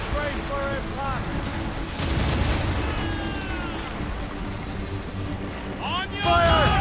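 Ship cannons firing in the naval battles of Assassin's Creed Rogue, heavy booming blasts over rumbling sea and creaking noise, with shouted commands and a voice speaking over the battle.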